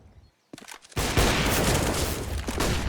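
AWP sniper rifle shots crack out in a Counter-Strike match on Inferno, a sudden loud burst after a brief quiet, followed by sustained dense gunfire and impacts.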